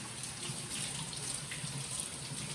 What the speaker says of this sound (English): And I'm going to wash the cilantro, and this is the easiest way to wash it and get all of the moisture out.